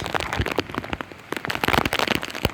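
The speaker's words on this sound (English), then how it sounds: "This is a fine mist of rain" Heavy rain from Hurricane Irma pelts down, with loud irregular drops smacking close by in a dense, crackling patter.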